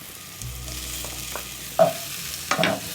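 Cut-up sausage pieces and softened onions fry in a pan alongside potatoes, a soft steady sizzle with a few scraping stirs near the end, close and moderately quiet.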